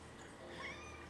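A pet cat meows once, a soft, short, fairly faint call against a steady low background hum.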